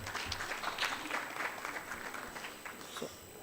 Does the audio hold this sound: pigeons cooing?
no